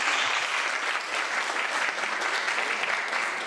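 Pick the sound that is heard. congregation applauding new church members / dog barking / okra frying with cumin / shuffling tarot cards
congregation applauding new church members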